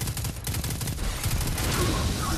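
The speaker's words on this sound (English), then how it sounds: "This machine gun, though, is a beast" Sustained automatic machine gun fire in the Destiny 2 video game, a dense continuous burst of rapid shots filling the whole stretch with no talking.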